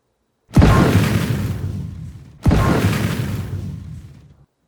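A designed explosion sound effect for Dead Island 2 gives two loud, sudden booms, each with a sharp attack and a roaring tail that fades over about two seconds.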